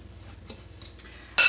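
A metal utensil clinks against a bowl while cocoa, baking powder and salt are stirred together for muffins, giving a few sharp, close taps ending in a louder clink.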